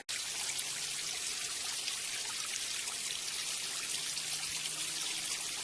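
Groundwater spilling over a small waterfall in Conemaugh Village, a continuous bright hiss and splash that holds steady and close throughout, with no voices over it.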